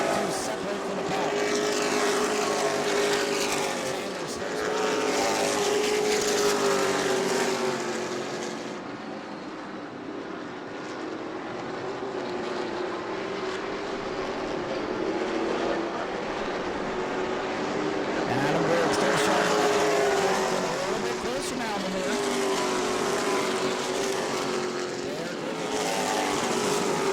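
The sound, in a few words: stock race cars racing at New Smyrna Speedway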